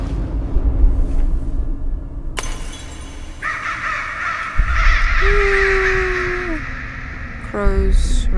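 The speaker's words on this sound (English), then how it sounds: "Crows, ravens." Crows or ravens caw in a dark horror game setting, a few harsh calls rising out of a layered ambient soundscape with a sudden crash, sustained eerie tones and a sliding pitch, speech faintly present underneath.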